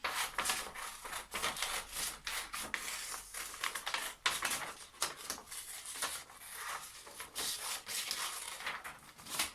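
Scissors snip through paper, cutting out a paper hand shape for window art, a rapid close series of rustling, scraping cuts and paper rubbing, fairly quiet and steady with no talk.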